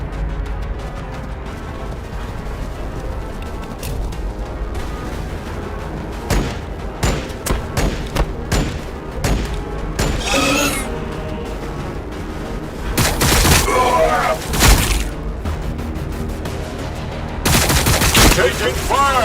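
Gunfire and explosions in the Warhammer 40K Battlesector strategy game: bursts of rapid shots and booming blasts come in clusters over a steady battle din, with heavier barrages near the middle and end and a voice speaking briefly.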